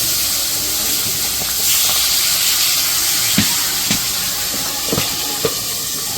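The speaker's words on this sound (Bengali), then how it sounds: "এই মাছের একটা সমস্যা, মাছগুলো ফুটে, মানে তেল ছিটায়" Hot oil spatters around a large pangas fish frying in a pan in a village kitchen, a steady sizzling hiss broken by several sharp pops and crackles.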